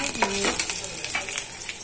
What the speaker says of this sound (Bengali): পেঁয়াজ রসুন ভাজা বসিয়ে দিয়েছি